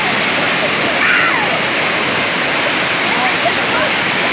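Waterfall pouring with a loud, steady broadband roar that stays constant throughout, filling the whole scene with dense rushing water noise.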